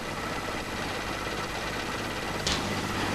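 A conventional car engine idles at about 800 rpm after warming up, a steady, even low rumble with faint mechanical ticking, close and continuous, with one brief sharp click near the end.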